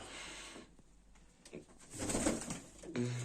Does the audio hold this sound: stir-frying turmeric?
no